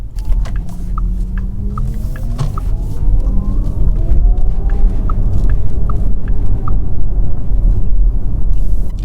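Cabin of a Porsche Taycan 4S on the road, a steady low rumble of tyres and road noise with a faint rising and falling electric motor whine and light ticks, no talking.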